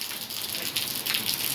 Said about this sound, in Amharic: ስንት ቀናችን ዝናብ በዝናብ ነን፣ እየቀለጥን ነው የሚባለው።